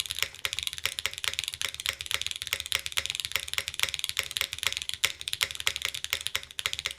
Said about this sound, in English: Yeah, this is a Nixie.